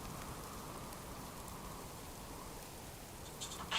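Rain falling in the survival video game Subsistence, a steady, faint hiss of raindrops on surfaces continuing without a break.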